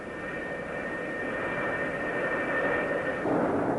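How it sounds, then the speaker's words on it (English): Twin jet engines of a McDonnell Douglas F-4 Phantom on an aircraft carrier deck run up to takeoff power, a loud, continuous roaring rush with a faint whine that swells slightly toward the end. "the deck director signals the pilot to run his engines up to takeoff power"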